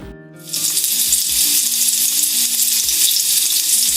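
Chopped tomatoes hit hot oil with a sudden loud sizzle that keeps hissing steadily while they are stirred in the pan for a drumstick curry, with soft background music underneath.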